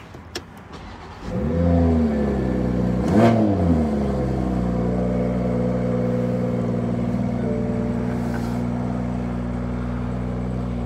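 A 2021 Toyota Supra 3.0 Premium engine cranks, catches with a loud burst and blip of revs, then settles into a steady, deep idle rumble heard up close.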